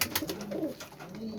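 A male Sialkoti pigeon gives a short, soft coo, a low throaty murmur lasting about a second, quiet and close.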